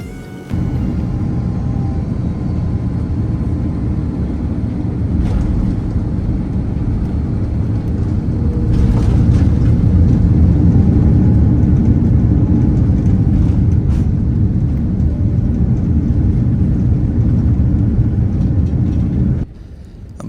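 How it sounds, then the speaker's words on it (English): Broad, loud engine rumble fills an airliner cabin as it taxis to the gate after landing. The drone runs steady with faint knocks, then cuts off abruptly near the end. "About a 10-minute taxi to our gate"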